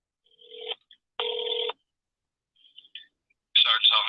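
A telephone call to a police sergeant's office in Findlay, Ohio, rings through the handset: two clear ring bursts separated by silence, followed by a faint tone and then a voice answering near the end.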